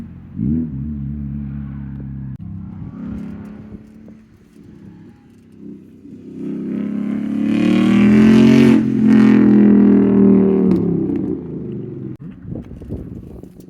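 Mazda Miata cars at the Roebling Road race track, a short engine burst and then a car approaching and roaring past loudly before fading, with no talking.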